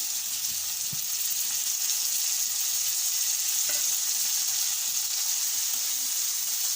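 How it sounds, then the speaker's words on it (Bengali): Onions sizzle steadily in hot oil in a wok, a constant frying hiss with faint stirring clinks and no talking. "এখন আমরা একটি কড়াইতে তেল নিয়ে তাতে পেঁয়াজ পেঁয়াজ ভেজে নেব"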